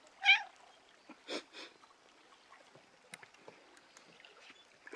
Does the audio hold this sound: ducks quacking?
no